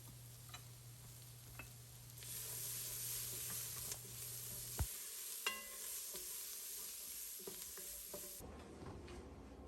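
Garlic sizzles in a soup pot with a steady hiss while a spoon stirs it, with a few light scrapes and taps against the pot.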